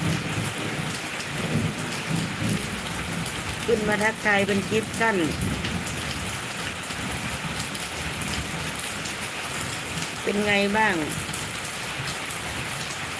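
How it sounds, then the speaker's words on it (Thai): Steady rain falls throughout during a storm, with thunder rumbling far off; someone talks briefly over the downpour in two short stretches. "นอนได้ยินไหมเสียงฟ้าอยู่ไกลๆนู่นน่ะ"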